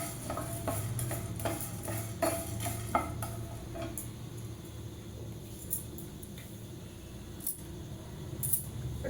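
Pepper and spices dry roasting in a pan with a little oil for rasam powder, heard as close, quiet scraping and stirring clicks in an irregular rhythm.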